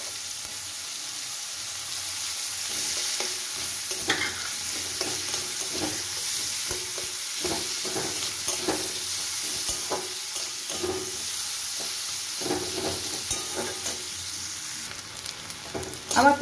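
Sliced onions frying in hot oil in a wok with dried red chillies and bay leaf, sizzling steadily throughout with repeated scraping and stirring strokes of a spatula, close and continuous with no talk.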